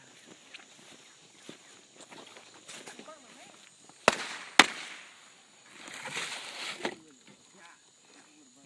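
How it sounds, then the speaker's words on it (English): A Saturn missile battery 25-shot firework goes off in two sharp, loud cracks followed by a scattered crackling burst, over quiet background rustling and occasional footsteps. "That was the 25 round shot missile launcher. The Saturn missile battery, 25 shots."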